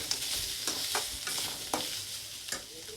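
Grated coconut, cashews and a large chopped tomato roasting in a pan for a potato and green pea masala gravy: a soft sizzle under several distinct scraping stirs of a spoon, close and unhurried, with nobody talking.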